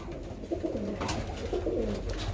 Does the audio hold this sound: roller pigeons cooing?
yes